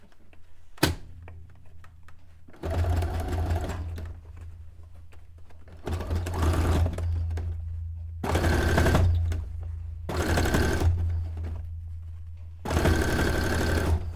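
A sewing machine stitches a cone-shaped cape for an avant-garde miniature townscape garment, running in five loud bursts of rapid mechanical whirring a few seconds long, separated by short pauses with light handling noise.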